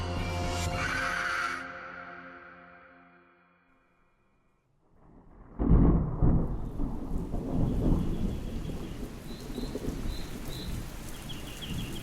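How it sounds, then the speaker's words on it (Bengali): A Bengali horror audio drama sets its scene with a long tonal swell that fades to near silence, then a sharp crack of thunder and heavy downpour of rain that keeps pouring loudly to the end. "সেদিন মুষলধারে বৃষ্টি পড়ছিল।"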